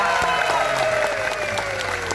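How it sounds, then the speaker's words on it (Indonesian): An audience applauds at a public event, steady crowd clapping throughout with a sustained tonal voice or music line running underneath. "Tepuk tangan"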